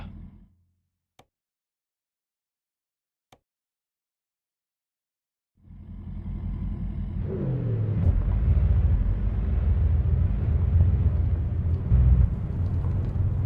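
Engine of a modded Jon Ruda Lord G-350 pickup truck in American Truck Simulator at a quarry in Illinois: near silence with a couple of clicks, then the engine starts and settles into a loud, steady, low rumble with no talk.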